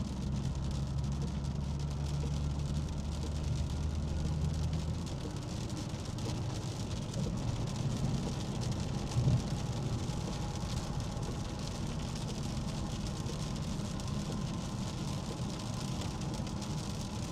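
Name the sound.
rain from thunderstorm heard from inside a car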